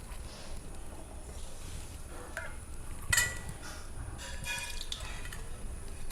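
Coconut milk is poured into a simmering tamarind fish curry, giving a soft continuous liquid pour with faint drips and one brief clink midway, close and fairly quiet.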